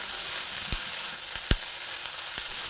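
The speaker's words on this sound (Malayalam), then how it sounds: "2-3 പച്ചമുളകും 2-3 ഉണക്കമുളകും ഇത്തിരി കരിവേപ്പിലയും കൂടി ഇട്ട് വീണ്ടും നമുക്കതിനെ ഒന്ന് വഴറ്റി കൊടുക്കാം." Onions sauté with green chilies, dried chilies and curry leaves in a pan, a soft continuous sizzle broken by a few sharp spoon taps against the vessel, close by and without talk.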